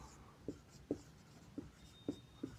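A pen writes notes by hand during a chemistry lesson, making five soft, separate taps and scratches spaced across a quiet background.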